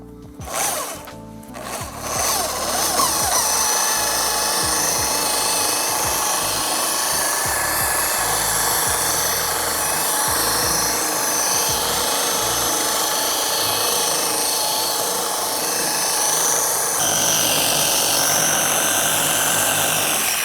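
A machine polisher with a wool pad and aggressive compound works scratched car paint, a steady close whirring drone after a few handling knocks at the start, its tone shifting slightly near the end.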